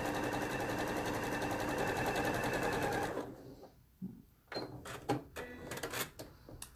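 A sewing machine runs a satin stitch for applique, a loud steady mechanical whirr for three seconds, then stops, followed by scattered clicks and handling knocks.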